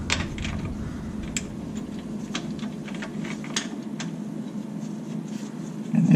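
Bolt being threaded into a hole in a VW spring plate, a faint series of small metallic clicks and scrapes spaced irregularly, close by in a quiet workshop, with a louder rustle at the end.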